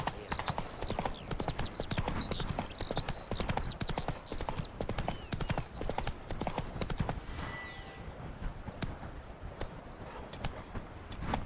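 Roach, Geralt's horse in The Witcher 3 video game, clip-clops along in a steady, close hoofbeat rhythm for most of the stretch, with faint jingling tack, before the hooves trail off into quieter ambience near the end.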